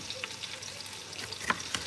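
Chicken legs browning in a hot pan for soup give a steady, close sizzle of frying fat, with a few sharper pops and spatters near the end and no talking.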